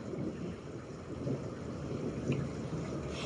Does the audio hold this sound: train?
no